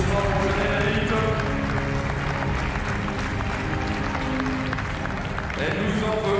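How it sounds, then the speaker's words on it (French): Crowd applause at a Swiss women's basketball cup final in Geneva, a dense, steady wash of clapping running throughout under a noisy arena hum. "Les applaudissements pour le générique"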